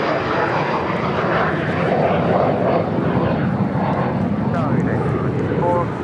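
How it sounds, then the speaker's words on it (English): Gulfstream G150 business jet taking off at LAX, a steady broad engine roar at moderate distance, with people talking over it throughout. "This is Gulfstream G150 is taking off to Akron, Ohio."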